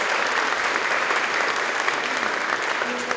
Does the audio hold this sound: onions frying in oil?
no